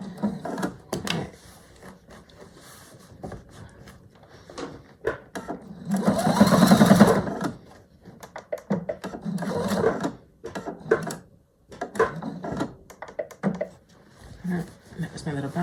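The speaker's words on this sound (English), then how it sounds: "That was my little back stitch." Domestic sewing machine back stitching a quilt, a short burst of fast motor-driven stitching in the middle with quieter intermittent whirring and clicks around it, mixed with a person talking nearby.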